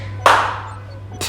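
A single sharp clap rings out against a low steady hum, followed by the start of another clap just after.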